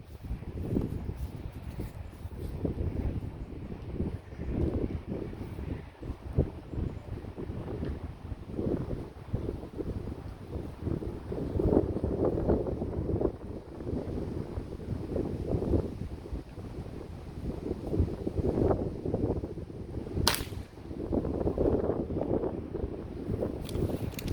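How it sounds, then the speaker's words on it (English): Wind blows outdoors during pellet rifle target shooting, a continuous rough gusty rumble buffeting the microphone throughout, with no speech. "I still feel like we are fighting against the wind."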